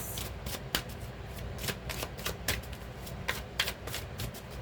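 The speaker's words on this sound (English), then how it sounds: "Get a good shuffle here." A Fairy Tarot card deck being shuffled by hand, a steady run of crisp riffling card flicks up close at moderate loudness, with no talk.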